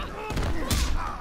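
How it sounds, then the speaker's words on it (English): Gunfire from the fighting video game Mortal Kombat X, a couple of sharp thumping shots mid-clip over game audio and background noise. "Oh, you missed the gunshot."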